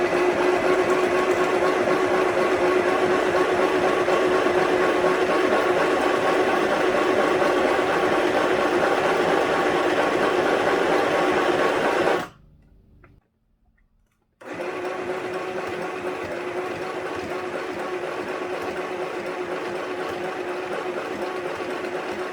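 A domestic sewing machine stitches fabric in a steady, loud, fast mechanical whir. It stops abruptly for about two seconds of near silence, then resumes at the same even pace.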